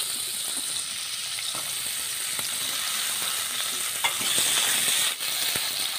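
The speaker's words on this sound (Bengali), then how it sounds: "এবার ঝিঙেটাও ভেজে নিচ্ছি।" Tender ridge gourd frying in oil for a rohu fish curry, a steady hiss of sizzling with faint occasional ticks of a spatula, close and even throughout.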